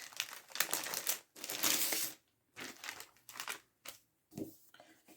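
A package of craft labels from a boys' collection is opened up close, giving bursts of crinkling plastic and paper rustling in short irregular spells separated by brief pauses.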